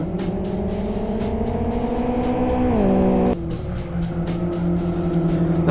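Race cars accelerating in the Live for Speed racing game, engines droning loudly with a rising pitch, a sharp downward gear-change drop near the middle, then pulling steadily again.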